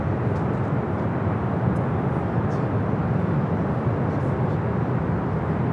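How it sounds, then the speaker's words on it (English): A KLM airliner taking off from LAX bound for Amsterdam, a steady broadband jet roar heard from a distance, constant and unbroken throughout with no voices. "Looks like KLM decided to head to the south for a takeoff today"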